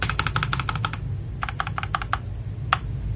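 Mechanical keyboard with Kailh Tiger switches and XDA keycaps on an FL Esports MK870 kit, typed in two quick bursts of clacky keystrokes followed by a single final key press, close and crisp over a low hum.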